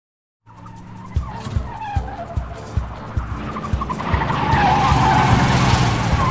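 In a car chase from the film Drive Angry, tires squeal and skid as a car engine revs, with a series of sharp thumps followed by a rising, sustained roar of speed.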